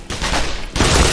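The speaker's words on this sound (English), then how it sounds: "More shooting!" Loud, dense gunfire from the Black Mesa video game, with automatic weapons rattling in sustained bursts across the whole moment and a brief dip before the shooting swells again.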